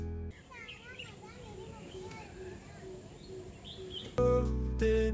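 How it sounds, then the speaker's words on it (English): Birds at Bird Paradise Singapore whistle and trill in rising and falling phrases, fairly close and clear, before music abruptly starts near the end. "Whistles and trills, their voices take flight."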